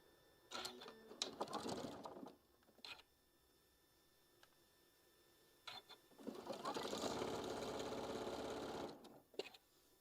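A sewing machine stitches pressed quilt pieces for a patriotic table runner, two bursts of steady motor whir with clicks and handling sounds between, close and clear.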